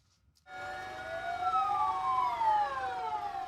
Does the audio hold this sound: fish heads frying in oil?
no